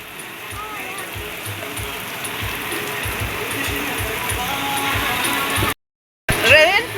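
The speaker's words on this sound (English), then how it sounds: "We have been rained on." Rain pours down outdoors at a resort in Mbiuni just after swimming, a steady broadband hiss lasting throughout, with voices talking over it and a brief dropout near the end.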